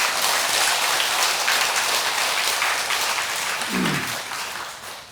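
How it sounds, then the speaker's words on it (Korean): Audience at a Buddhist dharma assembly in a temple hall breaking into a steady wash of clapping that holds for several seconds and fades slightly toward the end, with a brief low murmur partway through. "이해가 조금이라도 되면 박수 한번 치라고."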